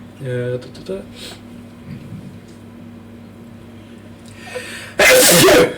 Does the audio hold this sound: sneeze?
yes